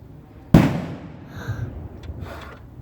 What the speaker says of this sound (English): They're doing fireworks outside.